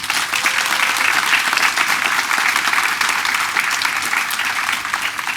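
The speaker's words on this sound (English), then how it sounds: "So please give these folks one last round of applause" Sustained audience applause at a mental health and addiction conference, honoring peer speakers; dense, steady clapping from a crowd that holds evenly throughout before easing slightly at the end.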